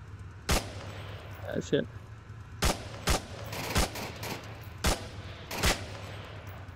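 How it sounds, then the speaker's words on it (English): Sniper rifle fire in the VR shooter Onward, scoped for long range: about seven sharp, loud gunshots spaced irregularly, with a short spoken exclamation between them. "Two headshots, but that was an extremely long range sniping."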